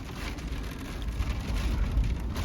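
Steady rain drums on the roof and windows of a Volkswagen Westfalia during a thunderstorm, heard from inside as a dense, even patter with low rumbling underneath.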